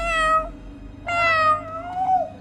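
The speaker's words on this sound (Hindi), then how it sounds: "लगता है कोई बिल्ली घुस गई है।" A cat meows three times in a haunted-house video game, clear and close, each cry rising then falling, with short quiet gaps between.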